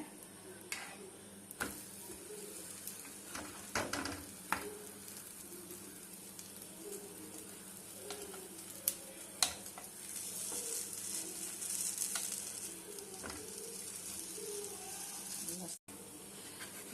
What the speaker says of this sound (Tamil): அந்த ப்ரெட்டை டோஸ்ட் பண்ணிக்கணும். இப்போ வச்சுருக்கிறேன்.